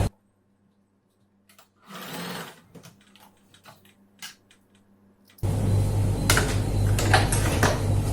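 Work on a girls' summer dress opens with faint handling noises and brief bursts. A sewing machine then starts up and runs loud and steady, stitching the fabric.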